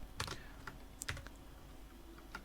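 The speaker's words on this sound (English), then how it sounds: "I'll type out console.log" Close, quiet computer keyboard typing in short bursts of keystrokes with brief pauses between them, no voice heard.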